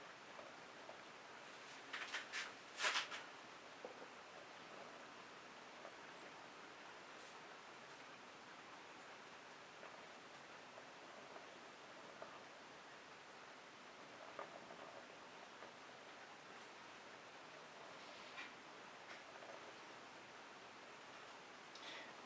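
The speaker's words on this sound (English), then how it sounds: "The rain has arrived." Soft, steady rain patters outdoors in a continuous faint hiss, with a few louder drips or taps early on and no voices.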